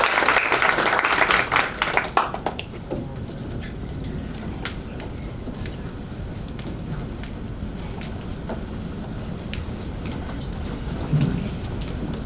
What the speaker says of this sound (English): So let's please now give a clap to them.